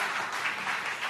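A church congregation applauds in a sustained burst of mixed clapping that stays fairly even and close for about a second, with no clear speech over it.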